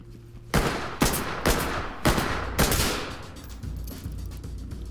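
Gunfire from a magazine dump in the tactical shooter Ready or Not at a gas station hostage rescue, five loud, evenly spaced heavy shots echoing and fading into a low rumble, with no talking.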